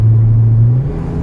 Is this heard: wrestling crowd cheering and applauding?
no